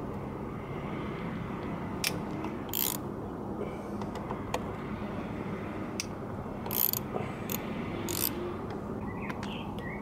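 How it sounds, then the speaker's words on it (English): Ratchet wrench with an 8 mm socket turning out bolts on a scooter gearbox cover, giving several short, sharp clicking bursts spread over a steady background hum, close and moderately loud. "Get an 8mm socket and loosen up these bolts."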